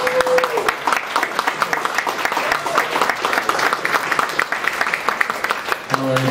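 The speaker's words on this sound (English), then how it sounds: "big round of applause, please" Audience applause at a boxing-related event, lively sustained clapping from a standing crowd, with a voice briefly heard at the start and the end.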